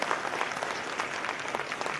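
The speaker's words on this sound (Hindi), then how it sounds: "उनका भी तालियां बजाते।" An auditorium audience at a government inauguration ceremony claps in a dense, steady burst of applause, moderately loud and continuous throughout.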